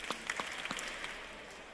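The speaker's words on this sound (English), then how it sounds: "If you can hear me, clap your hands 3 times." Scattered hand claps from an audience at a faculty convocation, a few sharp separate claps spread unevenly over a short moment in a large room, faint and uncoordinated.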